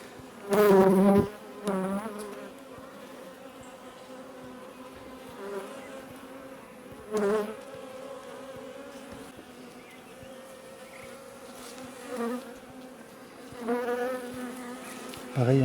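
Honeybees hum steadily around an open hive during a colony inspection, the dense buzz continuous throughout and swelling into a few louder bursts as bees fly close.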